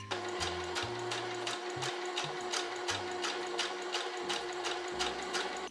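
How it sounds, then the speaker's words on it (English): A sewing machine stitches close to the outer edge of a dress bodice facing, running in a steady rapid rhythm of short bursts with brief pauses, near and loud with no talking. "we're gonna sew here close to the outer edge of the facing, just to secure it"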